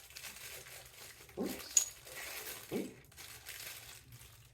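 Packaging around a GEM golf training aid is unwrapped with quiet crinkling and rustling, plus a couple of soft thuds. Someone briefly speaks a single word partway through.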